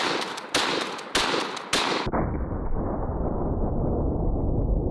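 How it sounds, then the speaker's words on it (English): Three loud shotgun blasts in quick succession, fired outdoors at a pineapple target, then a sustained, muffled roar that lasts several seconds. "we're going to shoot some pineapple"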